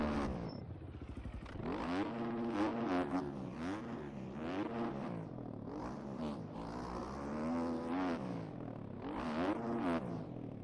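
OEM dirt bike ridden hard over jumps and whoops on a motocross track, engine revving up and down in repeated surges with clattering suspension, recorded from the moving bike with steady wind and mechanical rattle.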